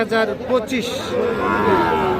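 Sahiwal bull calves low at a busy rural cattle market at Raniganj haat, with a long, loud, close moo rising over people talking nearby.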